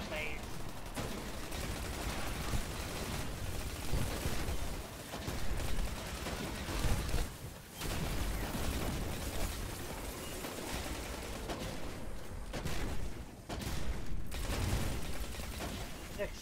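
Gunfire and explosions in a video game strike mission, a dense run of rapid shots and booms that continues throughout at moderate loudness, with a voice speaking at times.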